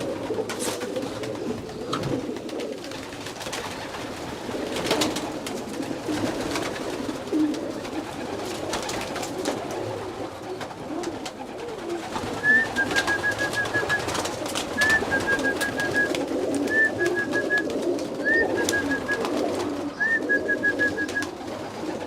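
Pigeons coo steadily inside a loft, soft low murmurs that keep going over a busy background hum, with a repeated high chirping note in the later part and no voices.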